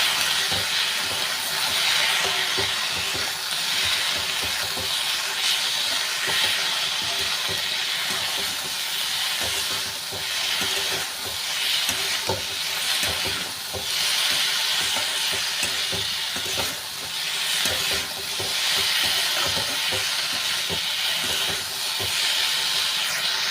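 Potatoes and onions frying in a pan, a steady, dense sizzle and hiss that runs without a break, with faint stirring scrapes now and then.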